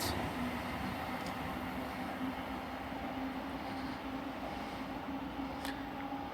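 A Class 800 train pulls away from Swindon station, a steady rumbling roar with a sustained tonal hum and faint high squeals, fairly loud and unbroken throughout.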